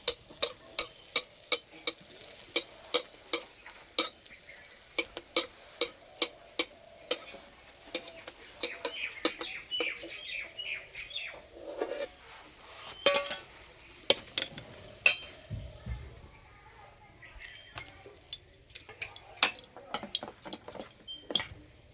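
Jaggery pitha frying in oil, a soft bubbling hiss beneath frequent sharp ticks and clinks of a spatula against the pan, irregular and close.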